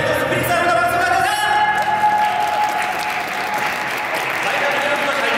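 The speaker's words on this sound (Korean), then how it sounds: "박수 받으세요" Audience applauds a band as it is introduced on stage, a continuous roar of clapping with some whoops from the crowd and a sustained musical tone ringing under it.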